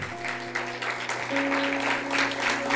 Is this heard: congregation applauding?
yes